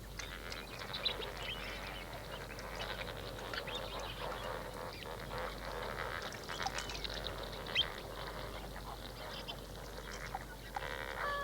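A flock of flamingos calls from the shallows in a continuous, busy chatter of honking and gabbling, moderately near and steady throughout.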